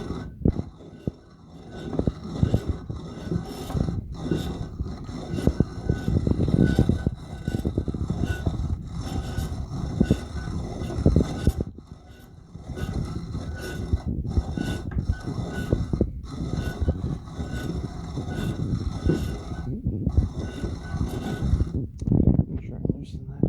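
An odd old coffee grinder is cranked by hand, grinding with rough, rhythmic scraping and rattling that pauses and restarts, while a person talks now and then.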